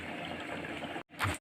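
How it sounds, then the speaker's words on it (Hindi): Water is poured into a pan of beef kofta curry, a continuous close splashing pour for about a second, then a brief final splash after a short gap. "अब पहले इसमें पानी डाल दिए हैं।"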